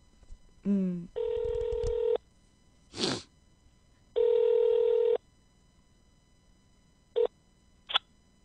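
A telephone call being placed: a short dialing burst, then two long, even ringback tones separated by a pause, with a few brief beeps near the end, all fairly quiet over a low hum.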